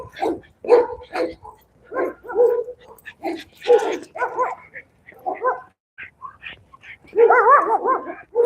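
A huge dog barks and whimpers in repeated bursts during a neighborhood walk, fairly close and loud, with quiet gaps between the barks.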